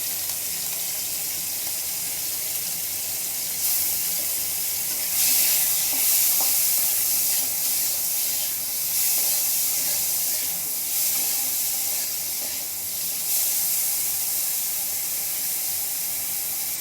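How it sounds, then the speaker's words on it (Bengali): Prawns fry in hot mustard oil, a loud continuous sizzle and hiss that swells partway through as pieces are turned, steady and close with no talking. "এবারে তেলের মধ্যে আমরা চিংড়ি মাছগুলো একটু ভেজে নেব।"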